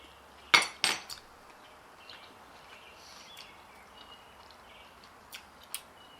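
A metal utensil scoops melted provolone cheese from a No. 4 Lancaster cast iron skillet during a picanha cook. Two or three sharp clinks come close together early on, followed by faint, scattered taps in a quiet setting.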